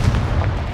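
The Confringo blasting spell goes off in Hogwarts Legacy as a short, loud, booming blast with a heavy rumbling low end that fills the whole moment.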